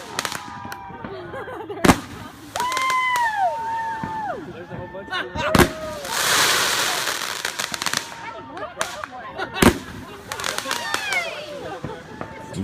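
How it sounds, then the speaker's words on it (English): Fireworks going off at a lake for an Independence Day celebration, several sharp bangs and cracks spaced across the clip, some near and some farther off, with whistling and crackle between them. "we shoot some fireworks."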